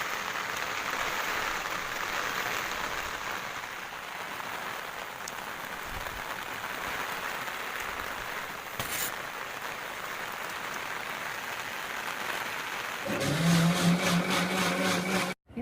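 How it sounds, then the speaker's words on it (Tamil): Steady rain falling around an umbrella outdoors during a lockdown evening, a continuous broadband hiss throughout, with a louder, denser patter in the last couple of seconds. "மழை சவுண்ட் கேட்குதுன்னு நினைக்கிறேன்"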